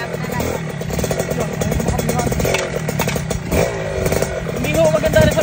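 A motorcycle engine revs loudly and repeatedly close by, with a sharp, raspy exhaust note that surges and drops in quick bursts, along with some rattling.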